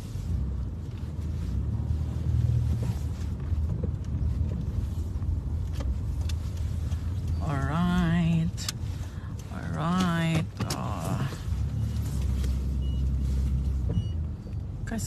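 A car drives along a road toward Sovereign Hill in Ballarat, Victoria, with a constant low engine and road rumble and wind noise, while people talk and a voice speaks briefly over it.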